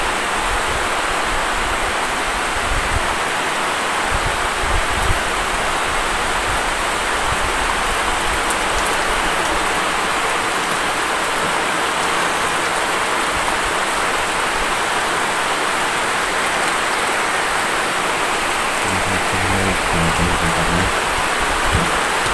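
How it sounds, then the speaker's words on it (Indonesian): Heavy rain pours steadily over a campsite, a dense, unbroken hiss of water falling close by throughout, with a few faint low rumbles underneath and no voices. "Hujannya nggak reda-reda teman-teman"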